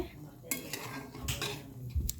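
A spoon stirs and scrapes milk thickening in a pot, giving a few distinct metallic clinks and scrapes at irregular intervals over a faint background.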